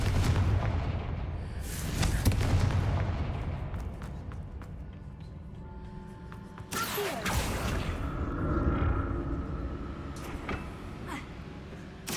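Confringo fire spell blast in the Hogwarts Legacy video game, a loud whooshing burst with booming, explosive crackle that surges near the middle, over continuous game ambience and rumble.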